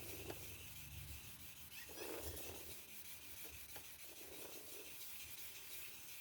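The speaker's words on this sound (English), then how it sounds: "Take my 2000 grit, wet sand it some more." Wet sanding with 2000-grit sandpaper: faint, soft rubbing strokes come in a few separate gritty swishes over a quiet background, with no voices.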